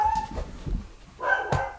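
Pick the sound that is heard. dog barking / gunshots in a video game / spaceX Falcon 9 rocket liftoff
dog barking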